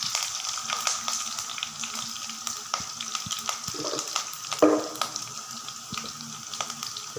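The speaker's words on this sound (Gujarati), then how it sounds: "લીલા મરચાં અને લીમડો પણ નાખી દઈએ। થોડો અજમો," Green chillies, curry leaves, carom seeds, mustard seeds and other spices fry in hot oil for Kathiyawadi kadhi, a steady close sizzle and crackle with a few sharper pops and an occasional stirring clink.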